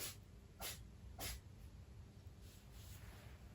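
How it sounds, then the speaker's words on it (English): A pet cat sneezes in a quiet indoor room, with two short, sharp sneezes close together and faint breathy snorts after them, all fairly soft and at a distance. "That's my cat sneezing over there"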